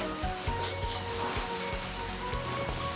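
Continuous dry rustling and crackling, like tall grass brushing together, steady and close with scattered soft crunches throughout.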